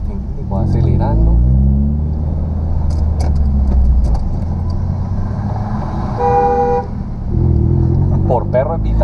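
A car drives and accelerates with a loud, close engine rumble, a brief horn-like tone midway, and people talking over it inside the vehicle.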